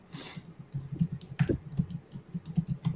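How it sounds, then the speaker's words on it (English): Rapid typing on a computer keyboard, a close, steady stream of clicking keystrokes with an occasional heavier tap, heard on its own without talk. "We'll wait for Lee to stop typing furiously"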